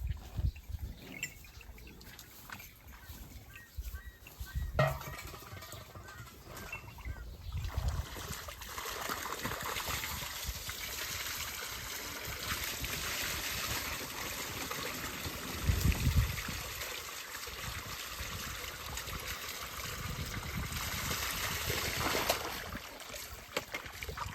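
Water falls and trickles continuously for over twenty seconds, a fluctuating splashing wash that swells slightly in places, with no one speaking.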